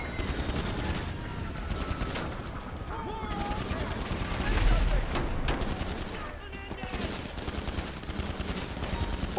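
Rapid bursts of gunfire and booming shots from a shooter video game, firing in dense repeated volleys throughout, loud and close, with a voice talking over the action.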